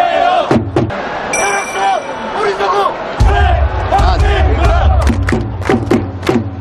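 A dense stadium crowd roars and chants in unison at a Brazil World Cup football match, with Korean Red Devils supporters cheering during a card section; rhythmic claps and shouts punctuate a loud, continuous roar.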